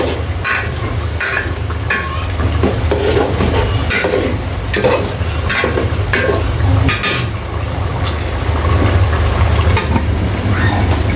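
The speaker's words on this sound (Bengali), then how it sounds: "আবার একটু নেড়ে ঢেকে দিচ্ছি" Beef curry stirred in a cooking pot with a spoon, giving repeated scraping knocks over a continuous low sizzle, then the pot is covered, all fairly loud and close.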